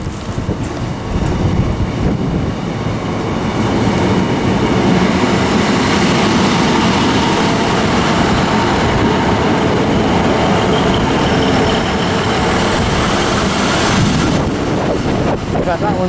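A train rushes through Liverpool South Parkway station on the West Coast Main Line, a loud, steady rumble and rattle of wagons close by for the whole stretch, with wind buffeting the microphone and easing slightly near the end.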